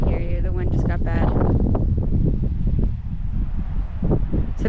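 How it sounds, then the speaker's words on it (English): Strong wind gusts roar and buffet the microphone beside a river at Harriman State Park on fly-fishing opening day, a steady low rumble that stays loud throughout, with a voice briefly audible near the start. "The wind just got bad."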